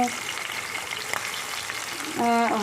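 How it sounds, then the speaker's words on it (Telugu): Onions dropped into hot oil for a potato and brinjal curry, giving a steady close frying hiss with a brief clatter near the middle and a short bright tonal sound near the end. "ఇప్పుడు మనం ఉల్లిపాయలు వేసేసుకుంటాం"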